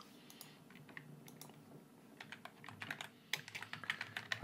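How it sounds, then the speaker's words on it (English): Soft, quiet tapping of keys on a computer keyboard while a crater name is entered, an irregular patter of light clicks that grows a little denser toward the end. "I type in Plato crater."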